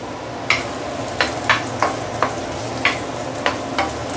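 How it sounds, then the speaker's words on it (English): Chinese sausage pan-fries in a wok under a steady sizzle, punctuated by about eight sharp spatula taps and scrapes at an uneven rhythm. "I'm just going to pan fry like this for about a minute or two, then I'm going to take out remove it from the wok"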